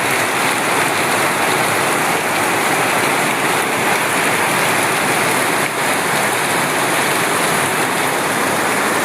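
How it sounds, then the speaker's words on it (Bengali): Heavy monsoon rain pours steadily in the Andaman Islands, a dense, loud and continuous hiss of downpour with no pauses and no voices. "বৃষ্টির ধারা ধরে ধরে পড়ছে।"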